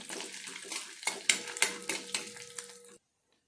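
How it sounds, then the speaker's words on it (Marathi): Cashews and almonds frying in ghee over a medium flame, with a soft steady sizzle broken by sharp clinks and scrapes of a stirring spoon against the pan, ending abruptly after about three seconds. "काजू बदामचे ड्रायफ्रूट्स टाकून घेते आणि याला आपण आता छान पैकी लालसर करून घेऊ"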